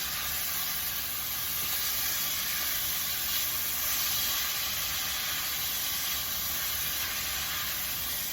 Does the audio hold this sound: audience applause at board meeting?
no